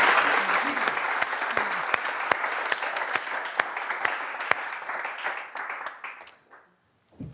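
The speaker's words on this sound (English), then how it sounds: "A round of applause for our panel" Steady audience applause at a policy conference on heat and air pollution in Europe, with a mid-sized crowd clapping continuously for several seconds before thinning out and fading to quiet.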